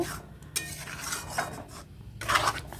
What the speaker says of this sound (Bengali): কিন্তু ঘন ঘন এভাবে নেড়ে যেতে হবে